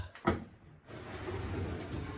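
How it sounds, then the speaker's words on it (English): Old top cupboard doors in a rural Japanese house are opened after long disuse, a single sharp knock or clunk early on followed by a soft rumbling shuffle and quiet room noise. "we haven't opened up these top cupboards in I don't know how long"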